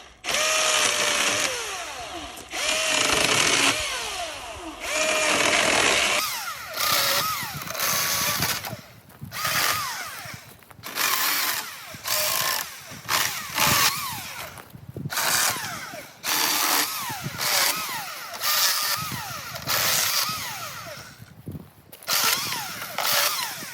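A Milwaukee Fuel M18 18V cordless chainsaw cuts small pieces of firewood, its motor whining up in repeated short bursts with pauses between cuts, loud and close.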